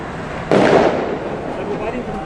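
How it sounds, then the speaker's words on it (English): Fireworks or gunfire set off at a street protest and occupation in Wellington, heard as one loud sharp burst that rings out and decays into a noisy crowd, with voices talking throughout. "No, that's them firing fireworks, I think. No, there's actually guns."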